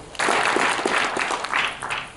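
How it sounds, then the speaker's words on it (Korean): An audience at a seminar gives loud, continuous applause welcoming a guest introduced from the stage. The clapping starts suddenly, holds steady, and swells again before the end. "여러분들께서는 큰 박수로 환영해 주시면 감사하겠습니다"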